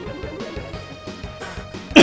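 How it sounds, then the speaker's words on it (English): A few short, rough coughs sound close up in quick succession, ending with a sharper, louder burst. "I don't mean to cough and be sick."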